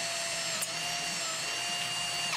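A power drill fitted with a pilot bit bores pin holes in metal for a snow plow repair, a steady close whine that holds throughout the short stretch.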